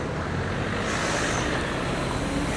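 Car driving on the road, a steady broadband road and engine rumble heard from inside, constant and fairly loud with no talk.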